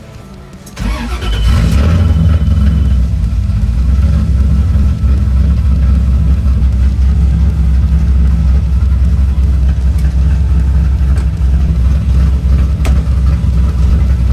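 A 1980 Corvette engine cranks and catches about a second in, then settles into a loud, steady low rumbling idle while warming up, close by with no speech.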